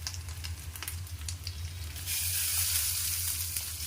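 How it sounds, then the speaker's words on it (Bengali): Tomato paste and spices sauté in a pan for masala enchor, a close continuous sizzle with light scraping that swells into a brighter, louder hiss partway through, no talking. "দিয়ে ভালো করে আমি এই মশলাটা কষিয়ে নেব।"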